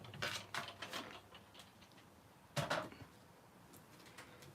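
A die-cutting machine cranks plates through for a card: a quiet, close run of ratcheting mechanical clicks, then a pause and a second brief burst of grinding clicks, with no voices.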